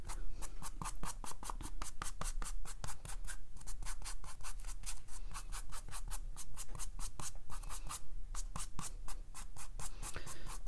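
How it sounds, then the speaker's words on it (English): Pencil lines rubbed out with an eraser on paper for a watercolor card, a fast rhythmic back-and-forth scrubbing of steady strokes, close and continuous, with no talking. "I'm gonna erase all these little doodad lines that I had"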